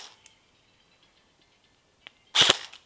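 A faint click, then a sharp burst of a snappy airsoft shot from a Double Bell 806 replica around the end, with a second small pop just after; otherwise quiet.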